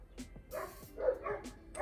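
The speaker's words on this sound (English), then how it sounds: "sorry about them dogs, they're mad annoying" Several dogs barking in short, sharp bursts, some yips mixed in, fairly close and loud, arriving in quick irregular succession with no voices over them.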